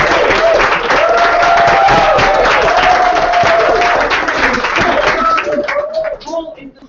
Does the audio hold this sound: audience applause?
yes